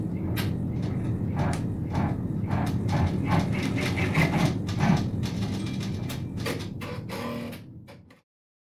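An embroidery machine stitching out registration marks runs steadily with a rhythmic mechanical clatter of needle strikes over a low motor hum, close and continuous, then stops near the end.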